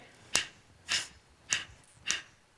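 A single person claps their hands four times at an even, unhurried pace, each sharp clap standing alone in a quiet room.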